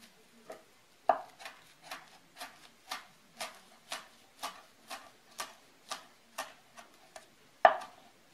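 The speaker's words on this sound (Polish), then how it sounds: "Posiekam też także listki bazylii." Knife chopping fresh basil leaves on a cutting board, a quick series of about a dozen evenly spaced taps at close range, with two sharper, louder knocks among them.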